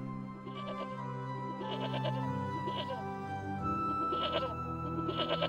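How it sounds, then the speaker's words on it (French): Several sheep bleat in a steady chorus of overlapping wavering cries, close and fairly loud, with repeated calls throughout and no talking. "Une de mes brebis est tombée dans le ravin."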